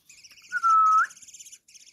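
A young coppersmith barbet chirps up close, giving one sustained, clear whistled note over a background of faint, rapid high twittering, all heard alone without speech.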